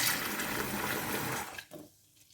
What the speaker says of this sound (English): I will tip this water out very carefully